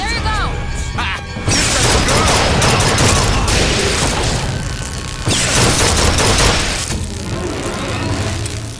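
BioShock Infinite combat erupts with loud, sustained gunfire, a near and continuous barrage of shots mixed with crashing impacts, while voices speak over the fighting.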